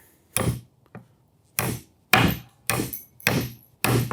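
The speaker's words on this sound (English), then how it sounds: "Here's the 16 ounce Boss titanium hammer." A 16 ounce Boss titanium hammer strikes a nail into wood, giving about seven sharp, loud, close impacts in a steady rhythm with short pauses and no talking.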